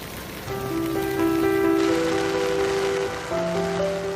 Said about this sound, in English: it continues to rain all day.